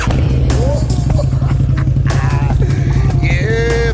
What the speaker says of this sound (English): Y'all know we got the tab performance exhaust on there.